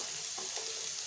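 Chopped onion sautés in butter with whole spices for rajma curry, giving a brief, faint, steady sizzling hiss with no talk.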